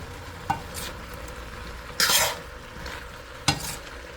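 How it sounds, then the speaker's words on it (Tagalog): Food is stirred in a frying pan over low sizzling, with three distinct scraping strokes spaced a second or so apart, the middle one longest and brightest. "Konting halo."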